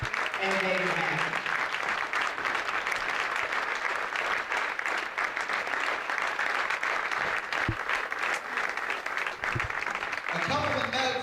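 Crowd applause at a hall of fame induction ceremony during a varsity basketball event, sustained clapping filling the hall from start to finish, with a few voices briefly heard near the beginning and end.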